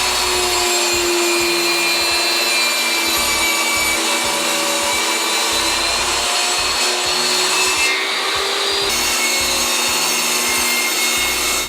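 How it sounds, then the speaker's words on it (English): A power saw rips long strips from a wooden board for a picture frame, running loud and steady with a rhythmic pulsing hum and a brief change in pitch partway through, no voices. "Okay, so we just cut down that wood."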